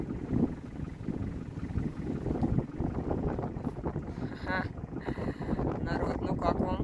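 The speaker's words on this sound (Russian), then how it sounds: "Ох, ветрюганище какой" Strong wind gusts roar across the microphone during an African safari drive near elephants. The buffeting stays loud and continuous, with people talking over it and a few birdlike chirps toward the end.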